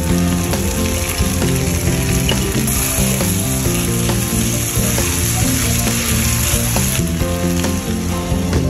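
Onions fry in a pan over a medium-high flame with a continuous, loud crackling sizzle that carries close and even for several seconds, mixed with occasional stirring clatter and no voices.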